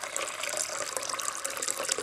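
Water splashes and trickles as it is poured for filtering, a close, bright, continuous liquid spatter with small droplet patters throughout.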